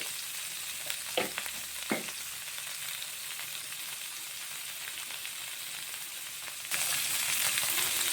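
Paneer frying in a pan with salt and turmeric, a continuous close sizzle with a few spoon scrapes early on, then the hiss suddenly grows louder near the end; no talking.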